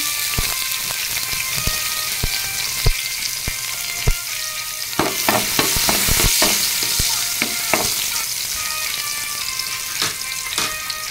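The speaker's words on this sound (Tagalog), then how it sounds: "maglagay ng oil sa kawali. Hayaan mo nang uminit. Ilagay ang bawang." Garlic sizzles steadily in hot oil in a kawali (frying pan), with frequent sharp clicks and scrapes from stirring over the constant hiss of frying.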